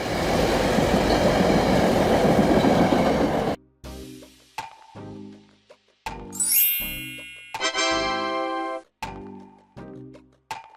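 SEPTA commuter train in Philadelphia, USA: a loud rushing rumble, then a chopped sequence of sharp bell dings and tonal horn blasts separated by brief gaps.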